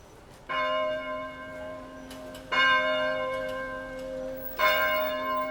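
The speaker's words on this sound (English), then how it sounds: "Bells are ringing, man." Church bells ring out on a street in St. Maarten, three spaced, resonant strikes each ringing on with a long tonal decay, moderately distant and with no talking over them.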